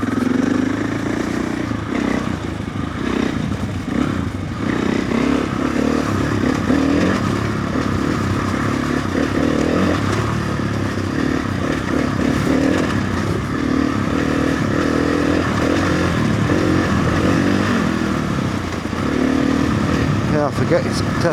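A motorcycle, stated as a 500, rides along with a steady engine drone and engine braking, accompanied by constant wind rumble and some clattering, with a voice talking over it.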